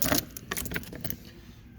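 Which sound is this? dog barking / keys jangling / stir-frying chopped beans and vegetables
keys jangling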